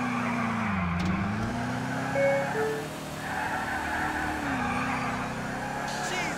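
A car in Grand Theft Auto IV drives with a steady engine hum whose pitch rises and falls as it speeds up and slows, under someone talking throughout, with brief tonal beeps in the mix.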